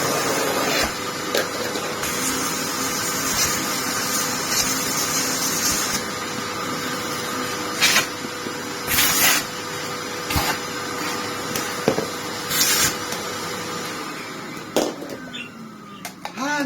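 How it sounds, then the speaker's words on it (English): A vacuum cleaner runs on boost suction, pulling rubbish out of a Greenote diesel heater, a steady loud whirring drone with repeated sharp rattling and clattering bursts as debris is sucked through. "so I can stick it on boost and suck all of the rubbish out"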